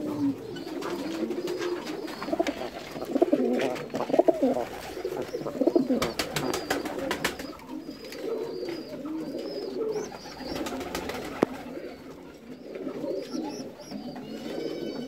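Shahjahan Puri and Giribaj pigeons at a farm coo steadily and overlap one another, with bursts of wing flapping and faint scattered chirps of other birds.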